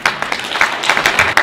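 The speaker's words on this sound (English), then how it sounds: "So you can clap for that." An audience claps for a local community figure at an evening event held at a mansion, a brief burst of scattered, fairly close handclaps with uneven rhythm.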